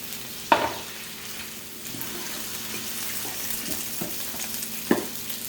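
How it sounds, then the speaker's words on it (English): Shrimp and green beans with seasoning cook in a pan with a steady low sizzle, broken by a couple of sharp stirring clatters near the start and end. "So everything is already cooking here. We got our green beans, our seasoning, and the shrimp."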